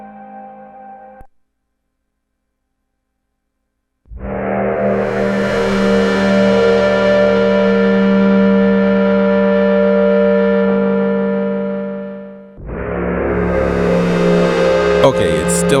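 A dry Moog Matriarch synthesizer patch with reverb off plays a sustained, rich chord for several seconds, then fades and a second bright chord enters, loud and close with no echo.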